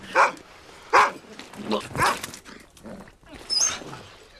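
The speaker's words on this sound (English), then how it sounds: "poor Sarge is having to stop the dog trying to steal his guts" A dog in a tense horror film scene lets out a series of sharp, close barks and yips mixed with whimpers, spaced irregularly across several seconds, with faint voices in the background.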